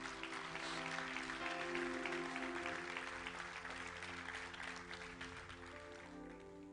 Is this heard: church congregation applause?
yes